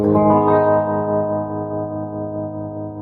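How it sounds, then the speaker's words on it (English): A sustained electric guitar chord rings out with a pulsing, wavering volume from a Nobels mini tremolo pedal, loud and alone, slowly decaying over a few seconds. "this is what the tremolo sounds like without me goofing around with the settings"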